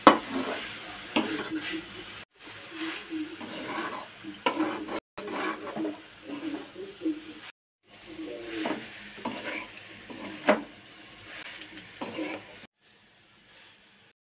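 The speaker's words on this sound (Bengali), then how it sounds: "এখন এভাবে করে আমি আস্তে ধীরে নাড়াচাড়া করে নেব।" Coconut kheer mixture is stirred slowly in a pan over medium-low heat, giving soft, intermittent scraping and light sizzling in short bursts separated by brief silences.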